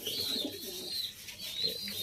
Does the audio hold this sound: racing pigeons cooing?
yes